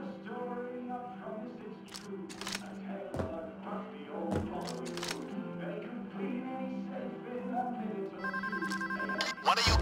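A telephone ringing repeatedly during a bank heist in the video game Payday, with bursts of ringing mixed with thumps and other game sounds.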